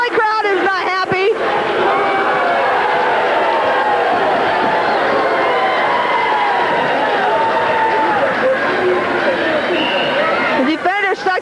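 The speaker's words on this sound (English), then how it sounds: "Missouri Valley crowd is not happy." Basketball crowd at a 1987-88 Missouri Valley game, a loud sustained roar of displeasure with shouting and booing that fills the arena, plus a few brief voices at the start and end.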